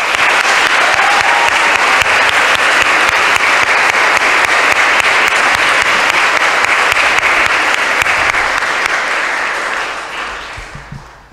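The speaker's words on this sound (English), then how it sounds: "show your appreciation to all of them with a heartfelt round of applause" School winter athletic assembly crowd giving coaches a long, loud, sustained round of applause that fades out at the end.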